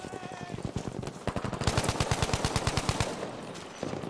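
Rapid automatic assault-rifle fire in Battlefield 5 rattles out in long sustained bursts, loud and close, with scattered shots before and after the main volley.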